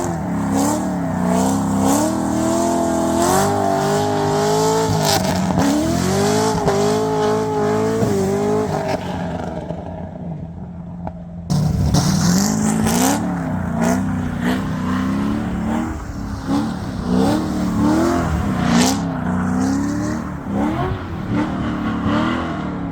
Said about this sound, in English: drove it how a C6 Z06 is supposed to be driven